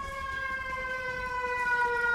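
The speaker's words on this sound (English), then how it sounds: "you can hear sirens in the background" Sirens wail outside an open window on a hot day, a sustained, steady emergency-vehicle tone holding at moderate loudness from a distance, with no speech over it.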